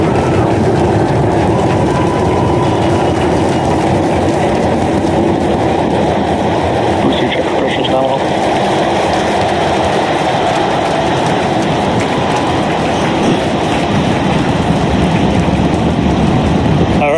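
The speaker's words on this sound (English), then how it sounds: "Telemetry showing 33 out of 33 engines as it's pitching downrange." A SpaceX Starship rocket lifts off with all 33 engines firing, producing a loud, unbroken, rumbling roar that holds steady from start to finish, with no voices.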